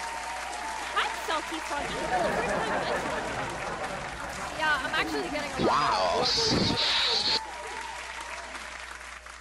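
Clapping from several people during a livestream rises and falls behind someone talking over it, building to a denser burst near the end.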